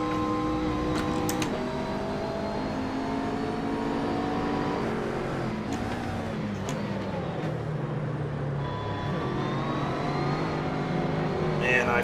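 Race car engine in Assetto Corsa, a Blancpain GT Series car, revving and climbing through the gears with continuous rising and falling harmonics, loud and steady throughout, with someone talking faintly underneath.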